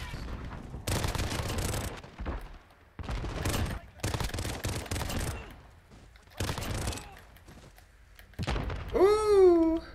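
Gunfire from the Call of Duty Modern Warfare video game, with repeated rapid bursts of shots separated by short pauses and a whooshing tonal effect at the end, heard over occasional speech.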